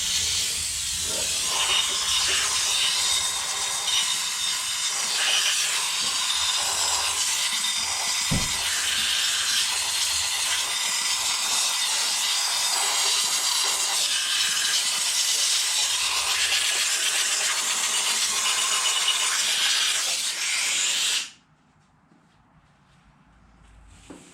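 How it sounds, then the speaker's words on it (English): Compressed air hisses steadily and loudly while blowing debris out of cylinder head parts, a continuous close rush lasting about twenty seconds before cutting off abruptly into near silence. "So I got a little compressed air, I'm going to blow them out."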